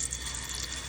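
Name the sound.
flatbread batter poured into hot oil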